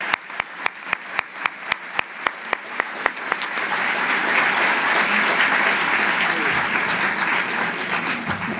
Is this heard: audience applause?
yes